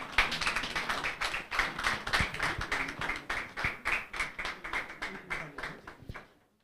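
A room full of people claps steadily for a moot court team, the dense patter swelling in irregular waves and then stopping abruptly near the end.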